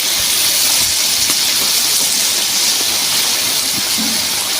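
Spices frying in a pan for a Bengali crab curry, with chili powder, turmeric and Kashmiri chili powder stirred in: a loud, steady sizzling hiss that fills the whole stretch without break.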